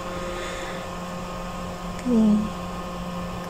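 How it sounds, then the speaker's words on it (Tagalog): An electric fan running indoors, a steady whirring hum throughout, with a person briefly speaking over it. "Pasensya na sa ingay ng electric fan guys."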